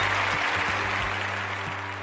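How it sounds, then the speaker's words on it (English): Crowd at the Philadelphia Pride parade in 2024 claps and cheers in a dense, steady wash of applause, with a low hum running underneath. "They deserve a round of applause"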